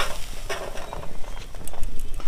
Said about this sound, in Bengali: একটু নাড়াচাড়া করে সব কিছু ভেজে নেব